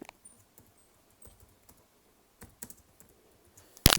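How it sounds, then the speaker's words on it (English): Someone types a name into a vehicle registration form on a computer keyboard: sparse, soft keystrokes spread unevenly over a few seconds, ending in a sharper, louder click. "This time I'll type Rahul."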